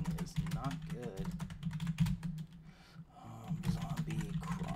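Fast clicking of keys on a computer keyboard while playing a zombie video game, a steady clatter of keystrokes with a short pause midway, under a low hum and faint talk.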